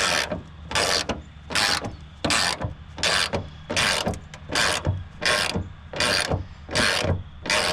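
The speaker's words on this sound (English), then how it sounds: "We're going to take that 13mm socket wrench, put it on the factory bolt, and go this way towards your hood, come back, and just loosen it up" A 13mm socket wrench ratchets back and forth on a factory hood bolt of a Ford, giving eleven evenly spaced bursts of crisp clicking, close and clear with no voices.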